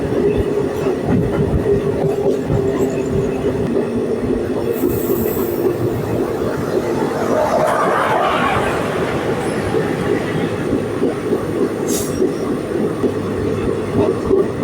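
Yercaud Superfast Express passenger train, which runs from Chennai Central to Erode Junction, rumbling steadily along the rails with continuous wheel and carriage noise, loud and close, and a brief rise in squeal partway through.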